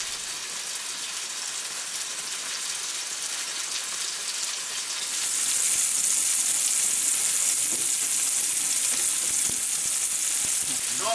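Blacktail deer venison fries in a pan with a close, steady hiss and crackle that grows louder and brighter partway through, continuing without pause.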